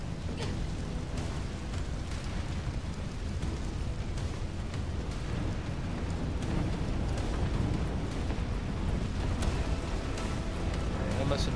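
Fire roaring through a building in Resident Evil 3, a steady dense rumble with crackle and scattered pops, continuous and fairly loud throughout, with a voice talking over it.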